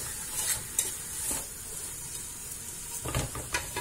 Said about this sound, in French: je vais laisser rissoler ma viande un petit peu pendant 5 à 10 minutes